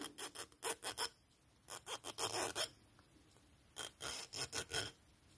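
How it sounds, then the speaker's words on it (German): A hand file rasps across a macramé earring stud in short repeated strokes, grouped in bursts with brief pauses between, close and fairly quiet. "Man feilt immer in die gleiche Richtung."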